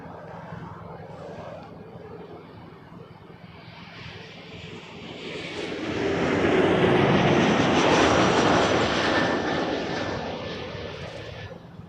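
A regional jet airliner, an RJ900, takes off from Toronto Pearson, its engine roar swelling to a loud peak midway and then easing off, heard alone.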